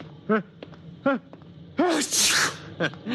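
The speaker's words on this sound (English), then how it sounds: "My eyes just water, my nose runs, and I sneeze" In an old radio drama, a single sharp sneeze bursts with a bright, noisy spray, surrounded by short voiced sounds like sniffles or throat noises.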